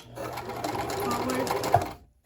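A sewing machine back stitches across an apron neck strap in a short, even mechanical whir that runs close and clear for about two seconds, then stops.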